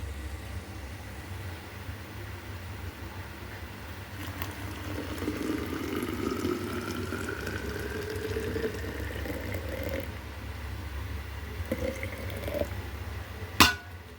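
Hot water is poured into a container holding vinegar and baking soda, giving a steady splashing flow over a low constant hum, followed by a brief bubbling fizz and a sharp knock near the end.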